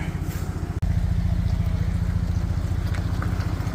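A V6 truck engine idling through a Gold Rush custom exhaust gives a deep, steady, pulsing rumble up close, broken by one brief dropout near the start.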